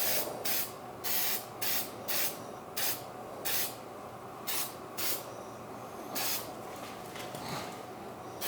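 A rattle can sprays paint onto an intricate part with many small recesses, about ten short hissing bursts in an uneven rhythm, close and fairly faint, separated by brief pauses.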